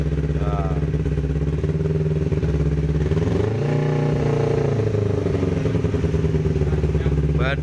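A Kawasaki Ninja 250 cc motorcycle engine runs at high RPM close by, giving a loud, continuous buzzing drone that dips briefly and then climbs again midway.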